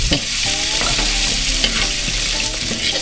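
Onion, ginger and garlic sauté in hot oil in a large wok, sizzling loudly and close, with repeated scraping strokes of a spatula stirring through the pan.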